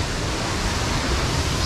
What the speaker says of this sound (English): So the water is just cascading away, really beautiful.